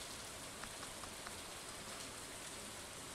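Steady rain falling in the video game Stardew Valley, a continuous even hiss of drops on surfaces with faint scattered patter, no talking.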